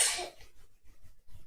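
A single close sneeze with a sharp breathy burst, followed by a few soft breaths and low murmurs in a quiet room.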